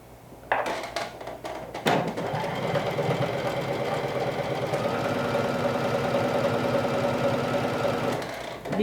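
A domestic sewing machine runs steadily, stitching a seam with a 1/2 inch allowance on a dress, its fast mechanical whirr and rhythmic needle clatter close and continuous after two brief starts.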